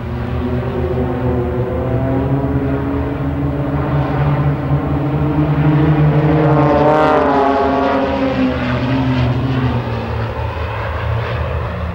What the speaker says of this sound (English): the Red Checkers aerobatic display team, flying the New Zealand designed and built CT-4 air trainer